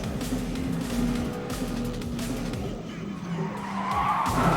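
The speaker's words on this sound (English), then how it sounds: "So that squealing is your tires locking up." Ferrari tires squeal and skid as they lock up under hard braking, a sustained loud screech over engine rumble lasting several seconds, with a brief voice near the start.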